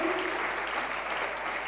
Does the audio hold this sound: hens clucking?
no